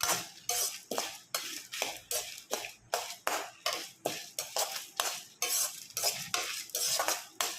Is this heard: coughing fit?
no